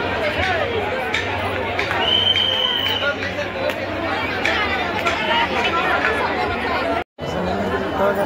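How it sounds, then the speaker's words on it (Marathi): A dense crowd of people fills the Tuljapur temple grounds, with loud continuous chatter and overlapping voices close by. A brief dropout breaks the sound near the end. "लय गर्दी आहे हो"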